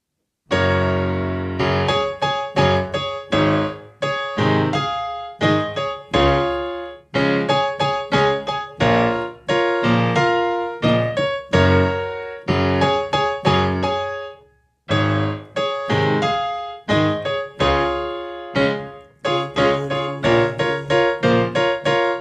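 Piano melody of a song played in the right hand, a steady run of clear struck notes with sustained chords beneath, close and fairly loud, with one brief pause midway and no talking.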